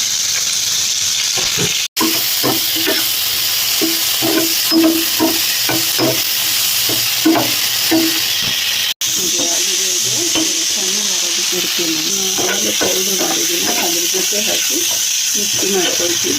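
Onion and tomato frying in a pan for dhaba-style paneer masala, a steady sizzle with repeated stirring scrapes and a brief cut midway.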